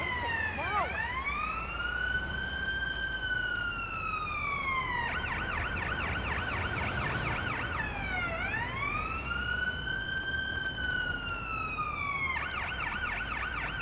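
An ambulance siren from the video game Ambulance Life: A Paramedic Simulator sounds loud and continuous, sweeping in long wails that alternate with rapid yelping stretches as the vehicle arrives on scene.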